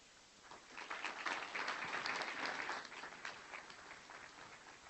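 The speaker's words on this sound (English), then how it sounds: "John, you deserve a round of applause for that." An audience applauds at a city State of the City address, a steady wash of clapping that swells over the first seconds, holds, then gradually thins and fades toward the end.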